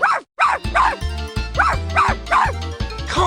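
A dog in the 102 Dalmatians: Puppies to the Rescue video game barks in a fast, loud run of yips and bow-wows over a rhythmic synthetic game music beat, steady throughout.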